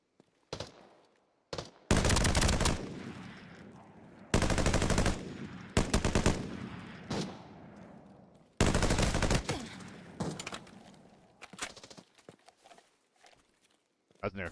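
AR-57 rifle fire in the video game Arena Breakout Infinite: several loud bursts of rapid automatic shots separated by short quieter gaps, with faint voices in between.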